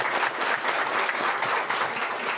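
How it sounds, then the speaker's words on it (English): A legislator education forum audience claps steadily and fairly loudly for a moment. The applause is dense and continuous throughout, with no voices audible over it. "yeah, you can applaud for that."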